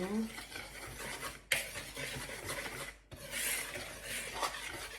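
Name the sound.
stirring a mixture with sugar and margarine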